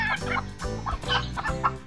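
A Serama bantam hen with three chicks gives several short clucks in quick succession, close and clear, with no talk over them.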